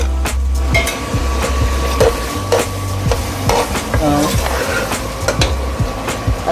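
Cumin, garam masala and chopped chilli hit hot oil in a pan, giving a loud, steady sizzle under frequent rhythmic clacks and scrapes of a spoon stirring close by.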